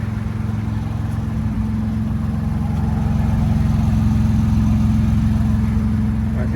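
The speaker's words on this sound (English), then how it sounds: "I hear more engine noise than anything right here." A 2024 Ford Ranger pickup idles with a Flowmaster 40 Series aftermarket exhaust, giving a steady, deep, even rumble that stays constant and fairly close for several seconds with no revving.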